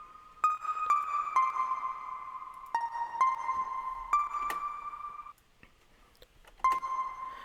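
A synth patch from the Synth Master Player plugin plays in a trap beat, with bright bell-like plucked notes and sustained tones that step between a few pitches. Each note starts with a sharp click, then a brief gap before the notes return.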